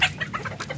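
Darag native chickens pecking and feeding on sweet saresa fruit, with soft clucks and scattered short calls close by over a brief stretch.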